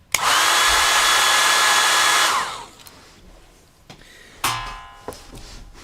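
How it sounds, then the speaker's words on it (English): A handheld blow dryer runs loud and close for about two seconds, then winds down and switches off, followed by a few quiet clicks and handling knocks. "I gotta use the blow dryer again"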